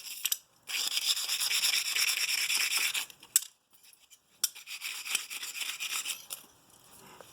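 Scissors blades rubbed back and forth against an abrasive surface for sharpening at home, a steady close raspy scraping in two long bursts separated by a brief pause, with no talk.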